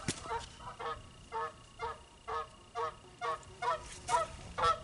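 Geese flying over an outdoor plein air painting spot honk in a steady, regular series of about ten calls, moderately loud and fairly close, with no talking.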